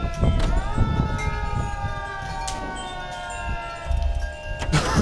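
An old ambulance siren in the video game L.A. Noire, a steady wailing tone that rises then holds, heard fairly close over low engine and street noise.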